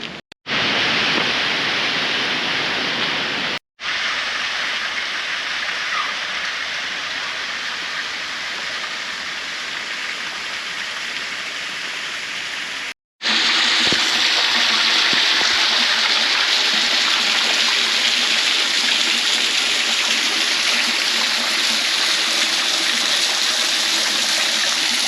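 A waterfall in Saint Lucia pours with a loud, steady, broadband rush that fills the whole clip, broken only by two brief dropouts, and swells louder for the final stretch.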